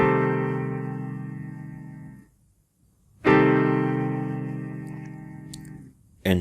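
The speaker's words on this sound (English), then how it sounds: "This is the sound of a minor 6 chord in root position." A minor sixth chord in root position rings out as a sustained held chord, then fades. After a short gap it is struck again and decays, and a brief third attack comes right at the end.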